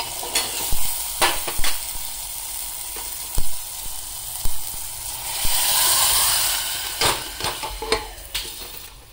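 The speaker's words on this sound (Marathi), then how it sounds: "तर इथं अशा प्रकारे डाळ सुद्धा फोडणीला घालून घेतली." Dal tempering in a hot pan gives a bright, continuous sizzle and hiss, with several sharp spoon-against-pan clicks from stirring and a louder steamy surge midway, close and without talk.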